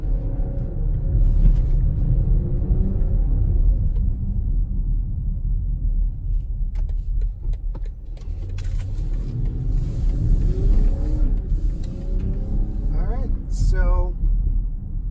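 A 2019 BMW X5 SUV drives at about 30 mph over a steep hill dip, its engine and road noise forming a steady, close low rumble throughout while a voice talks over it.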